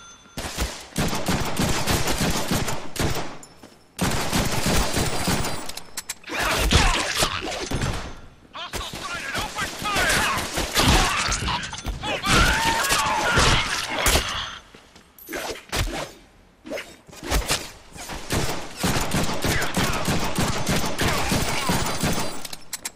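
Heavy gunfire and explosive bursts in the Deadpool video game, loud and dense with repeated volleys and impacts across the whole stretch, with brief pauses between bursts and game dialogue mixed in.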